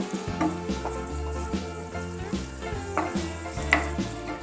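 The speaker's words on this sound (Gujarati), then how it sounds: "હવે આદુ અને લસણ સરસ રીતે શેકાઈ ગયું છે અને તેલ પણ બહાર આવી ગયું છે" Ginger and garlic roast in oil over a medium flame for a raw-mango garlic pickle, giving a steady close sizzle with repeated scraping stirs of a utensil against the pan, no voices.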